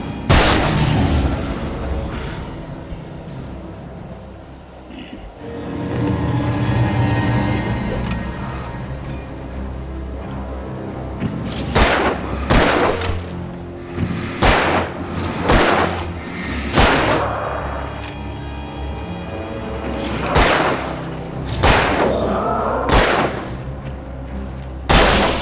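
Loud, sharp gunshots in the video game Alan Wake, fired repeatedly at irregular intervals, each a close booming crack standing out over a steady rumbling background.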